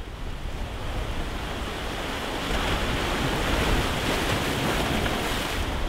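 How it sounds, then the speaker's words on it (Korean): Steady roar of surf breaking against sea cliffs along the rocky shore of Marado island, Jeju, with wind buffeting the microphone throughout. "발밑에서 부서지는 파도 소리를 들으며"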